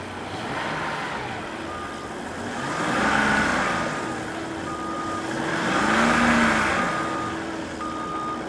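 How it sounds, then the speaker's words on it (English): A Mazda B3000 pickup engine idles and swells in two slow revs outdoors by a busy road, a steady low drone rising and falling under constant traffic noise and faint intermittent beeping. "Let's stand out here and just give it a little rev."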